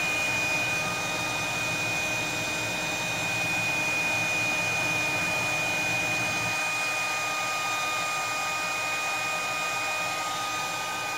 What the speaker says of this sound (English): You come in here and you blow dry all this stuff up.